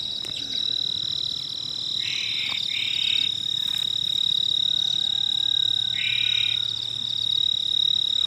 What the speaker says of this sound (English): Guys, those are the sounds of some crickets.